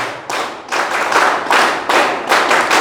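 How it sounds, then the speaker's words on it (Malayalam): An audience claps in unison in a 1-2-1-2-3 rhythm at a motivational talk, with sharp, loud, close group claps arriving in regular patterned bursts and no talking. "അപ്പോൾ ഒരു A+ ആയിട്ടൊരു 1 2 1 2 3 ക്ലാപ്പ് കൊടുത്താലോ?"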